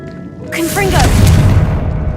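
A Confringo blasting spell fires in a Harry Potter video game: a loud, close, booming explosion starting with a sharp whooshing onset, then a sustained low rumble that fades slowly, with a voice calling out over it.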